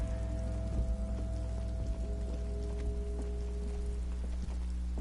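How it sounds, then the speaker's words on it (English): Steady rain falling in the video game Disco Elysium, a constant wash of patter over a low ambient hum with faint tonal drones, continuous and even throughout, with no voices. "Also, I love the rain."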